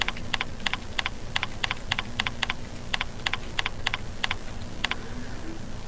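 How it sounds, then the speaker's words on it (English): Question being typed on a computer keyboard, a quiet run of evenly spaced key clicks in small clusters over a low background hum, with no talk. "You can type any sort of question you want."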